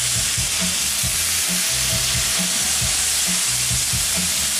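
Onion broth hits a hot buttered pan beside grilled steak, raising a loud, continuous close sizzle with rhythmic low scraping of stirring underneath, no voices.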